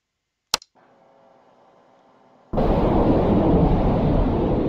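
A cruise missile strike in the Arma 3 video game: a sharp click, then a low hum, then a sudden loud, roaring rumble of the explosion that keeps going to the end, with no talking.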